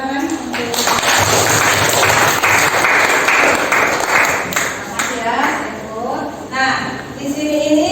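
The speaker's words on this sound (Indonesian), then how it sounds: "Tepuk tangan untuk" Applause from a classroom audience of students fills the space loudly at first, then thins out as a voice begins speaking over the fading clapping.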